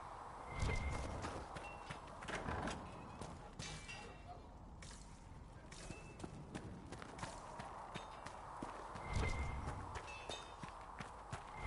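Horse hooves clip-clop at a steady walking pace in Dragon Age Inquisition, fairly soft and close, repeating through the stretch with a few louder thumps and game ambience underneath.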